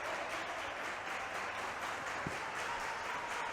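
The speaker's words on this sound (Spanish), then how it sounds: "Aplaude el público Lila" Crowd at a women's basketball game clapping steadily, a dense, soft wash of applause from a distance that stays even throughout.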